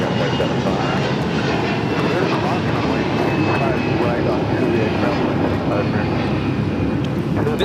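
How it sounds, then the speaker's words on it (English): An Air Canada Airbus A321 takes off from LAX bound for Toronto, its jet engines producing a loud, steady, broadband roar that fills the whole stretch without letup, with faint radio-style voices in the background. "794 taking off to Toronto on the A321"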